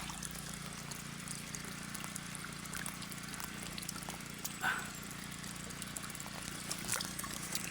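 Spring water trickles and flows steadily at a rural spring while water is fetched, a faint, continuous watery wash with a low hum beneath and a brief splash midway.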